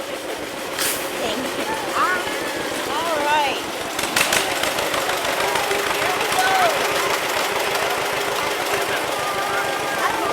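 A tractor engine chugs steadily and loudly throughout, pulling a first-grade pumpkin patch hayride, while voices talk and call out over the running motor.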